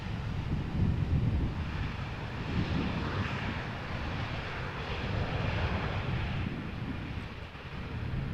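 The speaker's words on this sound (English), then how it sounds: "An Embraer 190 will be first and an Embraer 175 will come second. The Embraer 190 is arriving from London City." An Embraer 190 jet arriving from London City at Amsterdam Schiphol Airport produces a fairly distant, steady engine roar that swells gently and mixes with wind buffeting on the microphone, with no talk.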